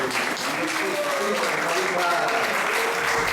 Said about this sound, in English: let's give a round of applause for His Holiness Ramapada Maharaj